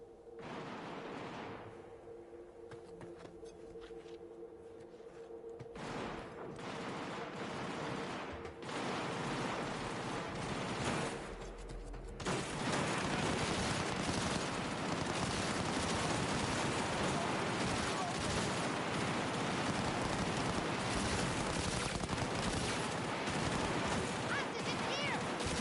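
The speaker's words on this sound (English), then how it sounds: "What's all that shooting about" Gunfire bursts crackle through a Cyberpunk 2077 city scene, dense and continuous, swelling louder in the second half with a constant rumbling background and no talk over it.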